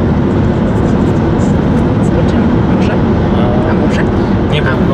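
A helicopter flies overhead, a loud, continuous broadband roar that dominates throughout with little change in level.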